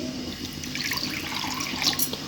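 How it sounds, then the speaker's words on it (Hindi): A cup of water poured into a bowl of salt, sugar and vinegar for an onion salad dressing, a continuous close splashing trickle lasting a couple of seconds with no speech. "1 कप इसमें पानी शामिल करेंगे"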